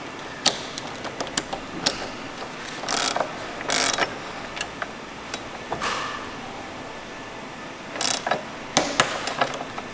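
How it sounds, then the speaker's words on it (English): Crank arm turned by hand while assembling a Voima pole, giving a run of sharp mechanical ratchet clicks and clacks in irregular bursts, fairly close and clear with no talking. "We use a crank on the other side,"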